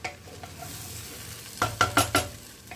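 Rice being stirred and fried in a pot for a one-pot tehari-spiced meal, a soft steady sizzle with a cluster of four quick scraping stirs near the end, close and fairly loud.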